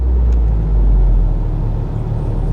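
A 1998 Ford Explorer V8 AWD idles with a steady, close low engine rumble as it is put in gear and starts to roll, with no talking over it.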